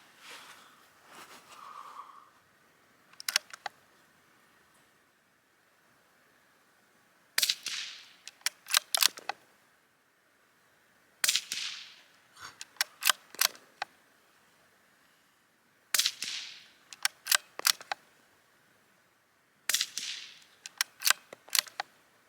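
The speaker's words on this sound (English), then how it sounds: "now let's shoot this first 5-round group suppressed" Suppressed .22LR rifle fired with a Silencerco Sparrow suppressor, a five-round group: sharp, fairly loud cracks in separated clusters, each with a brief rattling tail, a short pause between shots and longer quiet gaps between clusters.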